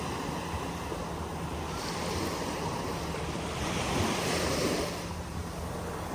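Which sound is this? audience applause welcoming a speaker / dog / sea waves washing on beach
sea waves washing on beach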